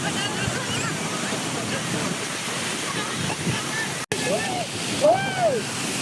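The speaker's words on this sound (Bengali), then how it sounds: "দেখতে পাচ্ছেন যে সমুদ্রে কি পরিমাণ ঢেউ আসতেছে, একদম ঢেউ এসে পায়ে লাগতেছে" Ocean surf at Port Dickson beach rolls and washes onto the shore in a continuous roar, with wind buffeting the microphone and a couple of brief high chirps near the end.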